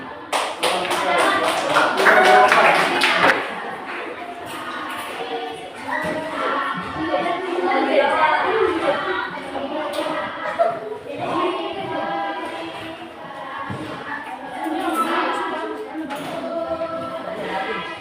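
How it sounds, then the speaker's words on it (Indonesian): An audience claps together, a burst of applause that fades after a few seconds, followed by a person talking at length over a quiet room. "tepuk tangan untuk teman kita"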